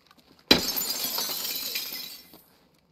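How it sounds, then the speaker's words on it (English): Window glass in a shooter video game shatters in one sudden loud crash, then bright shards tinkle and scatter for about two seconds before fading to silence. "I was trying to peek out the window and it broke the glass."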